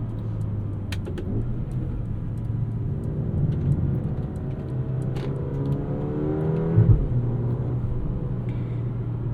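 A 2024 Mercedes GLA 35 AMG engine pulls hard under acceleration, its tone climbing steadily, dropping briefly at a gear change, then rising again over a constant low road rumble heard from inside the car.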